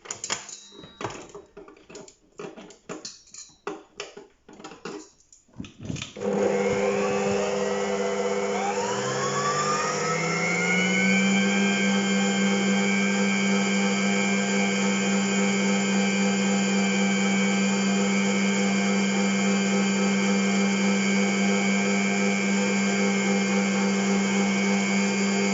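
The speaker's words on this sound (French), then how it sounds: "Je mélange." An electric mixer blends cake batter: after some clattering, the motor starts at about six seconds, rises in pitch and then holds a loud, steady whir.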